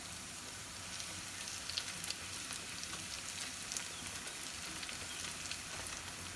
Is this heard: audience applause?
no